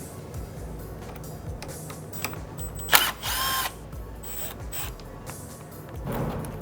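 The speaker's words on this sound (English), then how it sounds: "now we're going to unbolt the power steering cooler lines from the radiator tank" A power tool briefly whirs while unbolting the power steering cooler lines from the radiator end tank of a Porsche Cayenne, with a short burst of ratcheting and clicks between quieter stretches of workshop noise.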